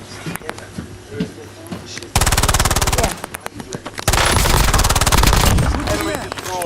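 Rapid automatic gunfire from a WSP9 in a video game comes in two long, loud sustained bursts, with a voice talking over the shots and quieter game sounds in the gaps.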